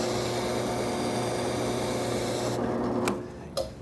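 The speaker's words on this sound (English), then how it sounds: "I'm using just a portion of the sanding drum here, but this will give me a nice square surface" A sanding drum on a drill press grinds against the end of a wooden piece, a steady close whirring rasp that stops abruptly near the end, followed by a couple of brief knocks, with no talking.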